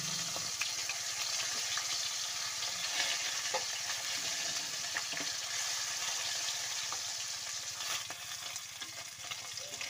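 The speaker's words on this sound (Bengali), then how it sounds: "মাছটার একটা সাইড ভাজা হয়ে গেছিলো" Snakehead fish sizzle steadily in hot oil after being flipped, a dense, close, continuous frying crackle that stays fairly even in loudness for the whole stretch, with no talking.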